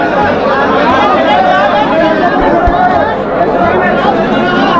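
A dense crowd of devotees chatters while waiting in a long queue at Neelkanth temple on Mahashivratri, a constant close hubbub of many overlapping voices with a few low thumps underneath.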